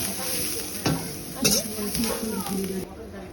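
Carrots and chopped chillies frying in hot oil for egg chowmein give a steady sizzle with a few sharp stirring scrapes, while a voice talks over the cooking.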